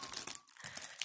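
Wrapped stocking presents being torn open, their packaging crinkling and rustling loudly up close in a brief burst.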